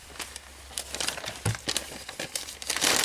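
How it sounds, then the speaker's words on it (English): A plastic trash bag crinkles and rustles as it is cut and handled, with sharp irregular crackles and brief tearing sounds, close and fairly quiet with no talking. "Take the sealed end of your trash bag, kind of center it up, and just cut a crescent"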